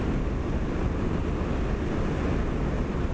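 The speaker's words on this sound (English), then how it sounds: "Gonna hear the wind along here. It's pretty loud." Loud, constant wind roar buffets the microphone while riding a Triumph Bonneville motorcycle, a dense rushing noise that fully masks any exhaust note, steady throughout with no speech.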